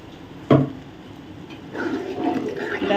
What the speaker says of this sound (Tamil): தேவையான அளவு தண்ணி ஊற்றி அவிய விடலாம்